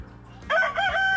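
A chicken gives one short, loud crow close by, a strained cock-a-doodle call lasting under a second, in a backyard animal setting.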